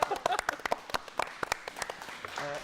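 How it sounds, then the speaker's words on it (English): A studio audience at a comedy show gives a brief round of applause, scattered claps at moderate level trailing off with faint talk near the end. "Now the round of applause."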